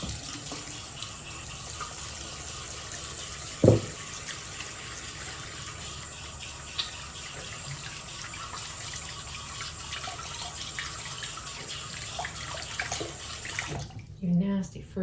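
Water runs steadily from a tap during handwashing, a continuous hiss with a brief knock partway through before the flow stops near the end.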